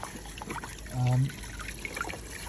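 Water trickles and dribbles through a freshly cleared roof gutter, a steady faint flow with a brief louder gush midway.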